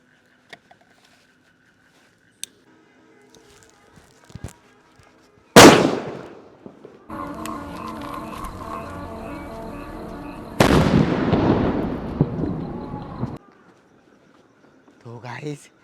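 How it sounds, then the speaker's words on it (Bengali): Diwali firecracker bombs burst close by with sharp loud bangs, each followed by a crackling, sputtering spray lasting a few seconds, separated by quiet stretches with faint clicks. "তো গাইস এটা ছিল মাঝারি বম।"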